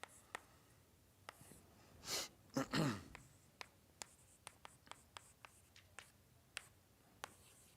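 Marker or chalk writing on a board during a university mathematics lecture, scattered taps and short strokes across several seconds, with a brief louder scrape and a breath partway through, faint and slightly distant.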